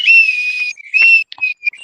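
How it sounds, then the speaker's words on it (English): A loud, shrill signal whistle like those used by sailors on ships, blown in two long sustained blasts followed by a few short chirps, close and piercing with no voices. "that whistle is loud."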